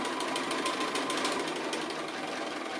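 Sewing machine stitching appliqué, a continuous fast mechanical whir and rattle at an even pace, running loud and close with no talking.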